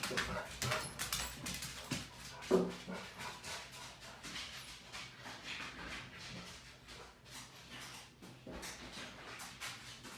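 A dog nearby pants in quick, rough breaths and gives a few thin whimpers, with one sharper sound partway through, while some quiet talk comes and goes in the room.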